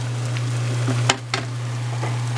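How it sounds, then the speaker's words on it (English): Steady sizzling of Vietnamese banh xeo pancake batter with coconut frying in a pan, with a low constant hum underneath and a couple of brief clinks. "That's sizzling up really well."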